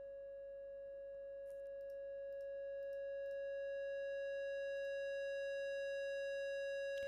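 A Reaktor synth lead built from an oscillator through a low-pass filter holds a steady, pure electronic tone that swells gradually louder, with faint ticks near the start.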